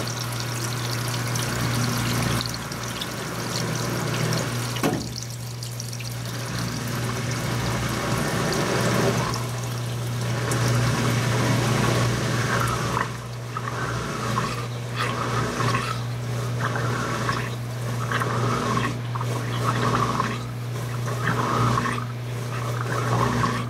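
Brastemp 16kg washing machine filling with water, a steady rushing pour with a constant low motor hum running throughout, fairly loud and unbroken.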